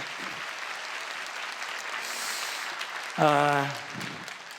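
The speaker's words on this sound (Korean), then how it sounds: "우리 다시 한번 격려하면서 큰 박수로 감사합니다" A church congregation applauds at a Friday prayer meeting, a steady wash of clapping throughout, with a short harmonic vocal or instrumental tone rising briefly near the end.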